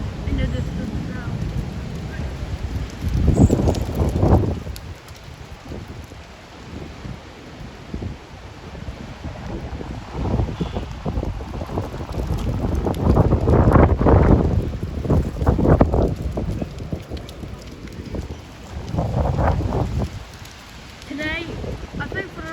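Extreme gusting wind at the Sleaford East railway level crossing roars and buffets the microphone, surging in loud waves and easing between gusts.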